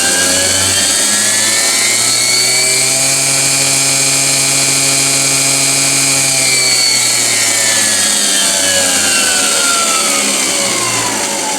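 A 9x20 lathe motor running continuously and loudly up close, a steady whine that climbs in pitch, holds, then winds back down, with a constant low hum underneath and no talking.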